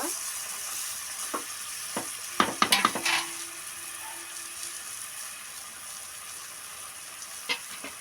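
Egg curry (kodigudla pulusu) being stirred in a pan in a home kitchen: a faint steady sizzle broken by a few utensil scrapes and a quick cluster of clinks, with a single knock near the end, quiet and close.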